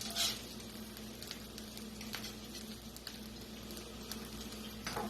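Bean patties fry in bacon grease in a pan, giving a steady close sizzle with scattered pops and spits and an occasional louder crackle.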